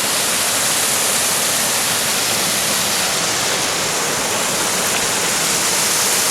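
Cold spring water rushes outdoors in the mountains, a loud, constant close roar of flowing water with no break.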